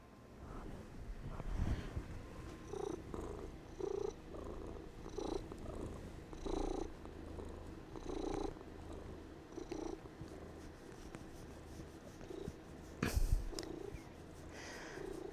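A pet cat purrs close to the microphone in soft rhythmic pulses, each breath a low rumbling burst repeating steadily for several seconds, with a brief louder rustle near the end.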